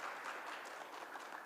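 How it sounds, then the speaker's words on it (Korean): Brief, soft applause from an audience at a youth leaders' forum session in Jeju, a steady patter of clapping heard at a distance with no voices. "박수 한 번만."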